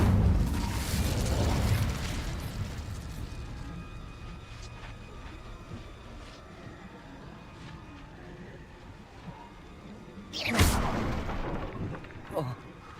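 A fire spell cast in Hogwarts Legacy, heard as a broad whooshing burst early on, then a sharp loud flare near the end over a rumbling game backdrop, with talk.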